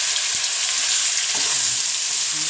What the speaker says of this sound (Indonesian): Kemudian tumis-tumis daging ini kembali.